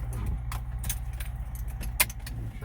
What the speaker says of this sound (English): Now I have to put my seatbelt first.